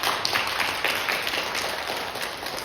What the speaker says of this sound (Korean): 박수와 격려로 환영해 주시면 감사하겠습니다